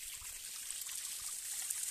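Steady broadband rush of water at Zeleni Vodopad, a waterfall on Fruška Gora, flowing continuously with no pauses, an even hiss that sits high and bright without distinct splashes.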